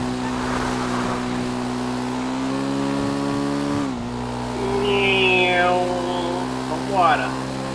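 Car engine accelerating in a GTA RP game set in Rio de Janeiro, with a steady rising engine tone, a pause, then continued revving and tire squeal amid game noise, close and fairly loud.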